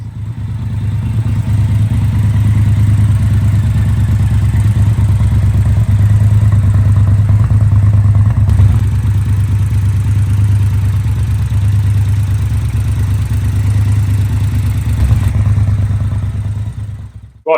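A 2017 Triumph Bonneville Bobber 1200cc engine idles close by, a steady low rumble holding at an even level for the whole stretch with no talking.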